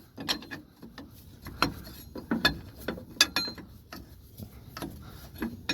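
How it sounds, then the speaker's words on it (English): A big wrench ratchets while working on a John Deere 410D backhoe with a hydraulic leak, giving close, crisp clicks in short irregular bursts that repeat through the whole clip. "Like that wrench action, huh? That one-handed wrench action."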